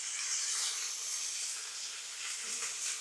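A burger patty for a hot and spicy chopped cheese, seasoned with High Plains steak seasoning, sizzles loudly on a Blackstone griddle outdoors as a steady, bright, hissing crackle that runs without a break.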